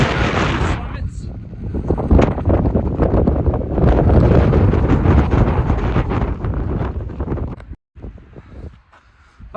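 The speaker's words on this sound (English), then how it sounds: "that wind was miserable for a minute" Strong gusting wind on the Arapaho Pass mountain trail, a loud continuous buffeting roar against the microphone that drops out briefly near the end.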